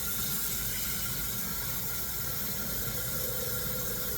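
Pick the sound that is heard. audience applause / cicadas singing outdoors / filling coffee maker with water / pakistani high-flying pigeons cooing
filling coffee maker with water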